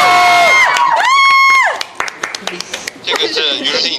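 A crowd of fans at a live stage event for the drama My Journey to You bursts into cheers and scattered claps after a drawn-out sung or shouted tone. Sharp claps ring out, then excited shouting rises near the end.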